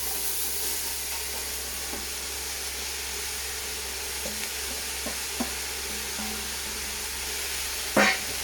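Red cabbage frying in a pan, a continuous sizzling hiss with occasional light scrapes and clicks of stirring, steady and close, with no talk.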